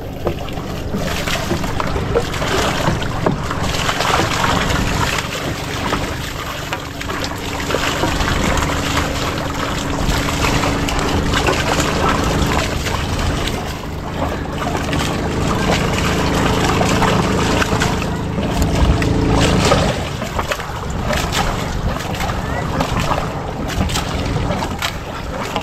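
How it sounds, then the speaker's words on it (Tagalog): A boat sits on open water during the windy amihan monsoon season, with loud, continuous wind gusts and water rumble buffeting the microphone throughout. "Hawa namin itong bangka na ito."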